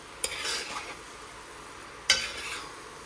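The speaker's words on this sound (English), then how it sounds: "Give it a nice stir." Callaloo is stirred in a cooking pot with two distinct scraping strokes about two seconds apart over a faint simmering background, close and clear, with no talking.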